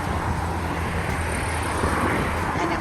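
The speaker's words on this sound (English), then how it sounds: "And the cars are on the seawall." Steady roadway noise from cars driving along a seawall road in a tourist town, a continuous broadband rumble of passing traffic with no distinct pauses.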